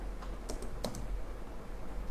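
A few quick keystrokes on a computer keyboard while typing Java code, faint taps over a steady room hiss.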